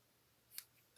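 A single quick, crisp snip of scissors sounds in near silence, followed by a soft knock at the end.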